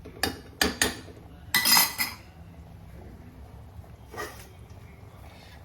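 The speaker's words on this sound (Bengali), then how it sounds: "এটা সেদ্ধ হওয়ার জন্য আমি একটু ঢাকা দেবো এটাকে।" A few sharp metallic clanks and a brief clattering burst come as a lid is set onto a home-kitchen pot of vegetables boiling in hot water. The clanks are close and fairly loud, then quiet settles in with a softer clink later.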